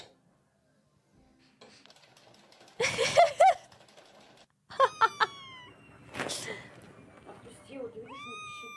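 Cat meowing in a cat video, a few short rising and falling meows amid clattering household noise, with a voice speaking at moments.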